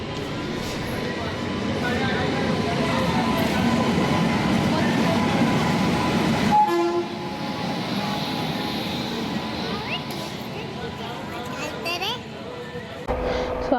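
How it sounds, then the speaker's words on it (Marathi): A steady rumble of a train at a busy station, with people talking and chattering throughout. "आता आम्ही ते स्टेशनला पोचून ट्रेनची वाट बघतोय"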